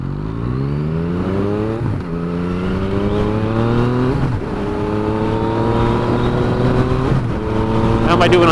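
A Yamaha FZ-09 motorcycle is ridden on a very windy day, its engine note climbing and dropping through several gear shifts, loud and close under wind.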